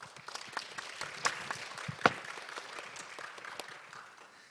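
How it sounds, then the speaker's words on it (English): A conference audience applauding, steady moderate clapping from many hands heard at some distance in a hall, a few sharper individual claps standing out, fading slightly toward the end, without speech. "Please give Professor Lee another big round of applause."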